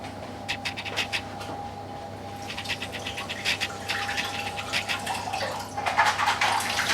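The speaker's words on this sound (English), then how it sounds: "Now it's time to wash the berries." Rowan berries are rinsed in a cheese grater under a running tap. Water splashes and patters steadily nearby while the berries rustle and scrape as they are shaken, with a faint hum in the background and no speech.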